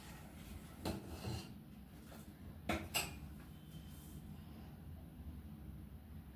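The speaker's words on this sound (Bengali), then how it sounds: "লাস্টের দিকে পায়েসটা একটু নাড়তে হয়, না হলে লেগে যাবার ভয় থাকে" Rice pudding (payesh) is stirred in a pot on a gas stove, quiet scraping and rubbing with a few sharper metallic knocks of the spoon against the pot, near but faint.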